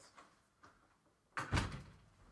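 A door is opened for a visiting caller, a few faint soft knocks or footsteps followed by a louder clunk and rattling sweep as the door moves, heard close with no talking.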